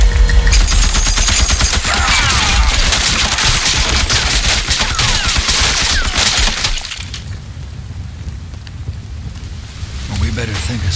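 Dense, rapid bursts of enemy gunfire in the Western stealth game Desperados 3 crackle loudly for about seven seconds, with shattering impacts mixed in, then drop away to a quieter backdrop.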